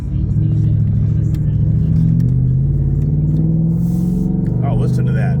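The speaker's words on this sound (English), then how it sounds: "Listen to this thing. So the exhaust is really is nice." A car exhaust revs up loudly with a deep rumbling growl, rising and falling in pitch, close by and dominating the sound.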